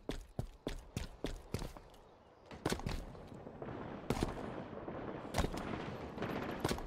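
Rapid carbine gunfire in the Halo Infinite Fiesta Slayer mode, a run of sharp, loud shots in quick bursts over a dense battle backdrop, with more shots continuing later.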